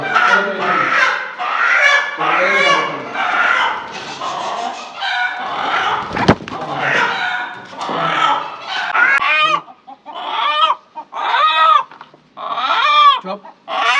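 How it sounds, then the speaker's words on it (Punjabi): Desi (village-bred) chickens cluck and squawk loudly right after being caught, agitated overlapping calls at first, then sharper separate bursts of clucking toward the end. "ਇਹ ਤਗੜੇ ਚੂਚੇ ਜਿਹੜੇ ਨੇ ਸਾਡੇ ਨੂੰ ਕਾਬੂ ਆਏ ਨੇ।"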